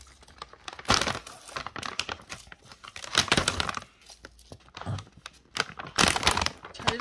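A chocolate pretzel snack package being torn open up close, bursts of crinkling plastic and ripping in uneven waves over several seconds, with no talking.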